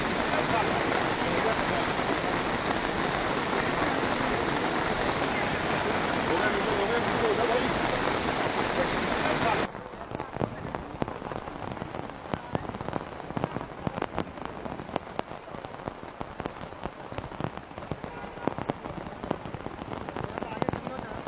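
Heavy rain pours at Parliament as a dense, loud, steady hiss. Partway through it drops to a lighter patter with scattered distinct drops, and no one speaks.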